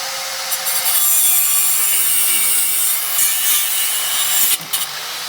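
A rusted front shock bolt on a Toyota Stout being cut off, a steady abrasive sawing and grinding rasp that runs close and loud for the whole stretch, with brief surges and a short dip near the end.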